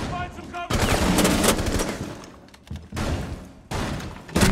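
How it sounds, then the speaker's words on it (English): Loud rapid gunfire from Rainbow Six Siege comes in heavy sustained bursts that break off briefly and then resume, close and dominant. "Are you seriously trying to shoot my feet?"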